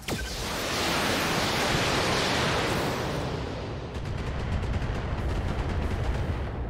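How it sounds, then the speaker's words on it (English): Mech guns and missiles fire in a loud, continuous roar of broadband noise from the Battletech video game, dense and sustained at first, then breaking into rapid crackling bursts toward the end. "Two of those missiles went way wide, but they wouldn't have killed the target anyway"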